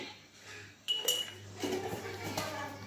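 A utensil clinks and scrapes against a pot while cream sauce is stirred through macaroni pasta, with soft irregular scraping and a few sharper metallic taps at close range.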